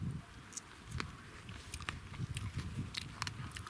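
Crunchy Solodkyi Svit table grapes being bitten and chewed up close: quiet, irregular crisp snaps and crackles over soft mouth noise, with no talking.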